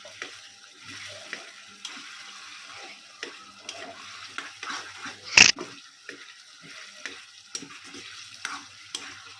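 Taro leaves stir-fried with spices in a pan give a low sizzle broken by scraping stirs and clinks, with one sharp loud clatter midway.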